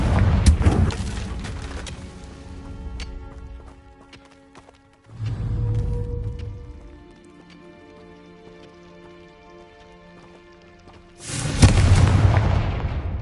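Confringo blasting spells in Hogwarts Legacy: three loud booming explosions, each bursting suddenly and then ringing down with crackling debris and a tonal magical shimmer between blasts.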